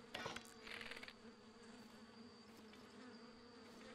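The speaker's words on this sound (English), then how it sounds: "Oh, it's bees." Bees buzzing in Breath of the Wild: a faint, steady swarm drone with a few brief sharper rustles at the start.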